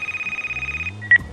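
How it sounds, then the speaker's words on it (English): A telephone rings in the police-management video game This Is The Police: a steady, pulsing electronic ring for most of a second, stopping, then one short, louder beep tone. "Oh, the phone is ringing."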